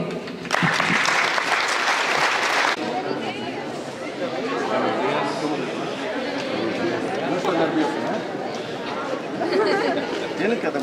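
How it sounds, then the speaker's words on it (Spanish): Audience at a state student prototype and entrepreneurship contest applauds loudly and steadily, with crowd chatter mixed through the clapping, which peaks early and then continues as a dense, sustained ovation. "Brindamos un fuerte aplauso a nuestros alumnos, quienes están listos para expresar sus ideas de negocio."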